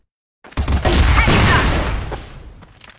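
A flash bomb going off in a Compound match of a CrossFire competitive game, a sudden loud blast after a moment of silence, with a crashing burst and ringing decay that fades over two seconds.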